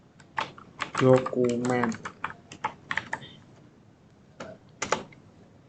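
Keys tapped on a computer keyboard while a Linux cd command is entered, a scattered run of sharp clicks mixed with a person speaking Indonesian, the voice carrying most strongly in the middle.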